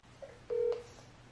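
A telephone number is being dialed: a few short touch-tone beeps, one brief and one longer, sounding close and clear over a faint background hum.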